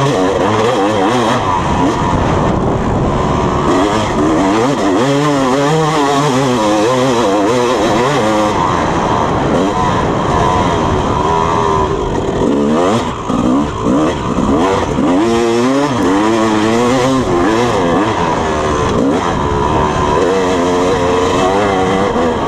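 Yamaha YZ250 two-stroke dirt bike lugging at low RPM through woods, a loud continuous burbling engine with wavering pitch as the throttle rolls on and off, close to the microphone, with no talking.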